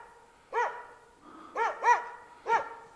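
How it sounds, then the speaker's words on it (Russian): A dog barks in a dense spruce and birch forest, giving four sharp, fairly distant barks: one alone, a quick pair, then a final bark, with quiet gaps between. "Кого он там лает?"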